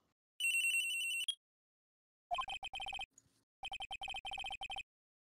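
Cell phone ringing in the Phoenix Wright: Trials and Tribulations courtroom game, a long electronic trill followed by two rapid clusters of bright chirping rings with a brief pause, clear and alone.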